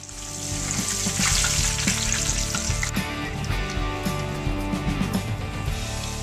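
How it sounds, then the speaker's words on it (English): Chicken thigh frying in hot oil, a steady close-up sizzle and crackle with a low background hum. "our chicken thigh is frying up"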